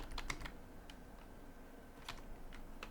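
Computer keyboard typing a terminal command, a few quiet scattered key clicks in two short bursts over faint room hiss.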